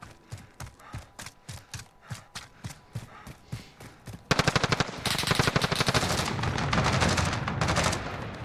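A Dusk Ripper AK-47 fires in Call of Duty Modern Warfare, first as a string of evenly spaced single shots, then as a loud, sustained burst of rapid automatic fire.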